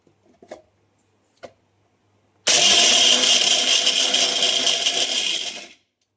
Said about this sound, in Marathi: मिक्सरला बारीक वाटून घ्यायचं